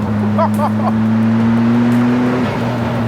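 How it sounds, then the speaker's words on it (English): Ariel Nomad 2 with a turbocharged engine at full throttle: a steady engine drone rising in pitch as it accelerates, then a brief break near the end as the note drops, loud and close with no talk. "Put your foot to the floor, you get a little bit of a shove, and then another shove when the turbo kicks in."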